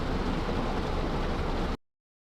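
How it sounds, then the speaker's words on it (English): Heavy rain pours down during severe storm coverage in South Dakota, a loud, dense, unbroken hiss that cuts off abruptly into silence. "it's raining absolutely heavy on Storm Run Media Stream."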